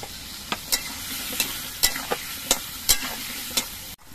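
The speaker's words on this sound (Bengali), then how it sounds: "আলুগুলো ভাজার সময় আলুর মধ্যে অল্প একটু নুন দিয়ে দিচ্ছি।" Salted potatoes fry in oil in a pan, a steady sizzle punctuated by regular sharp scrapes and clinks of a spatula stirring them, about every half second, then a sudden cutoff.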